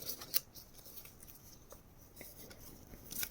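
Scissors snipping through interfacing for a sewn bag: quiet, close cuts with a couple of sharper snaps near the start and end over a soft rustling background, no talking.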